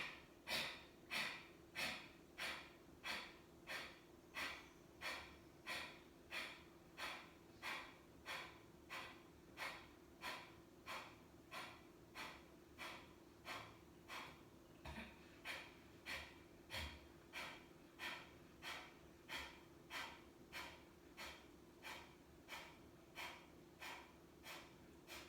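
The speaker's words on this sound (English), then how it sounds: "Exhale to begin." Rapid rhythmic breathing during a power yoga practice, a steady train of about thirty forceful exhales through the nose, evenly paced roughly every second, close and alone over a faint background hum.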